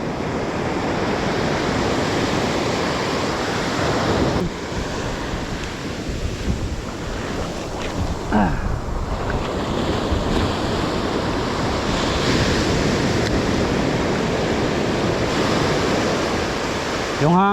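Strong ocean surf and gusty wind at a shore in Salalah, Oman, where anglers fish for trevally; a loud, continuous roar of breaking waves and wind buffeting the microphone throughout.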